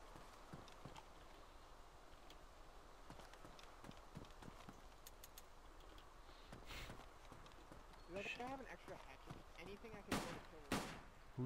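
Gunshots in DayZ ring out in sharp, sparse bursts near the end, with several loud cracks after a stretch of quieter game ambience and hoofbeat-like tapping, while players talk over it.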